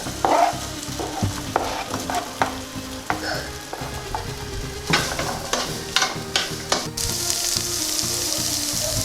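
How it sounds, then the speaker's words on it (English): Potatoes fry in butter in a pan, a close steady sizzle broken by repeated sharp clinks and scrapes of a utensil stirring them. "We're going to add the potatoes in first because they do take longer to cook."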